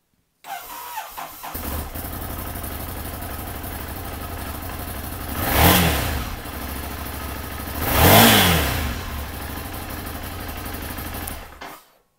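A 2016 Ducati Scrambler motorcycle starts with a whirring crank and catches, then idles steadily and is revved twice in quick swells, near and loud with no talk.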